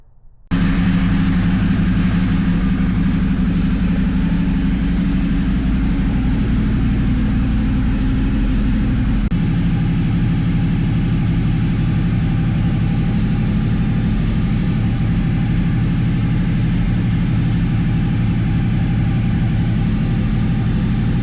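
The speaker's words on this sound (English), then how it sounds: "I had been practicing by releasing the clutch without giving any gas" A motorcycle engine idles with a steady low, throbbing hum as the clutch is let out without throttle, the tone shifting slightly partway through but staying even and unbroken, with no one speaking.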